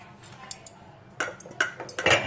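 A spoon stirs mango pickle mixed with sugar and vinegar in a bowl, with faint early taps followed by several louder metallic clinks and scrapes close by.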